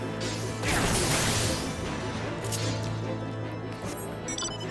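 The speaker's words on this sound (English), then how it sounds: "I never noticed the sound they make when they hit the ground, just shattering." Icicle sprites from Final Fantasy XIV shattering on the ground: a dense, crackling crash of breaking ice that swells early on, then continues as a busy clattering texture.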